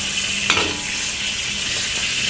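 Shrimp fry over low to medium heat in a pan for fried rice, giving a steady close hiss of sizzling oil, broken early by one brief scrape or clink of a utensil stirring, with no voices.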